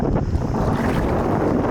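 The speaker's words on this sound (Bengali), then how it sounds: "যেমন ঢেউ আর তেমন হাওয়া" Strong wind buffets a boat on a Sundarbans river among big waves, a loud steady roar with heavy wind noise on the microphone and no talking.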